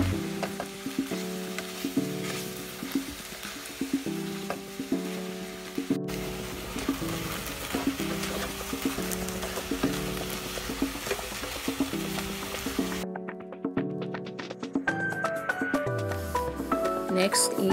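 Pork sautéing in a pan for a cabbage roll filling, a steady close sizzle with stirring scrapes, a brief cut in the middle, and music playing underneath throughout.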